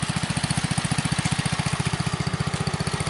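A Bolens Husky 600 garden tractor engine runs just above idle, a close, loud, even chugging pulse with a faint rattle riding on it and no voices.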